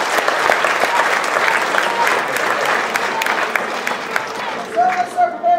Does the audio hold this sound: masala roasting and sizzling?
no